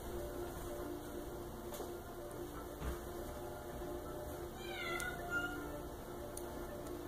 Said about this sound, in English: You could hear my cat, don't you?